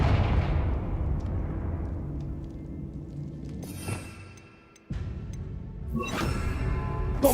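A fiery Confringo spell blast from Hogwarts Legacy: a heavy low rumble that slowly fades, then a sharp crackling burst and another rush of noise near the end, all fairly loud with no talking.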